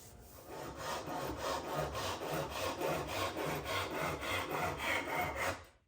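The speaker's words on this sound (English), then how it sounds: "I'm using sandpaper to get the final shape, then I'll sand through the grits to get a smooth finish" Walnut bench legs being shaped by hand with sandpaper, producing a steady series of close, rhythmic back-and-forth rasping strokes, about three per second, that stop abruptly at the end.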